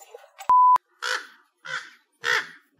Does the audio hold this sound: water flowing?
no